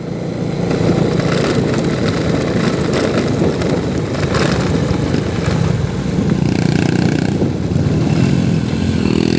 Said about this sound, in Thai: อันนี้ขึ้นเนินแล้วนะครับ โอ้ขึ้นสบายเลยครับ ประมาณเกียร์สองครับขึ้นเนิน